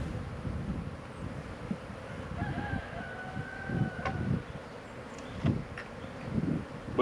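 A few bees from a swarm buzz inside a hive, soft intermittent droning hums coming and going close by over a quiet background, with a faint rooster-like call in the distance.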